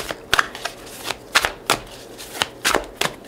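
Tarot cards being drawn and handled, giving a handful of short, close papery flicks and slaps spaced irregularly against a quiet background with no talk.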